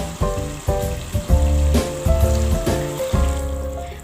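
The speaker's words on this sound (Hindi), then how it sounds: "अब हम इसमें पानी ऐड करेंगे।" Water poured into a hot pot of chana pulao sizzles loudly, with bursts of frying hiss and bubbling that surge and subside in a rough, repeating rhythm, close up.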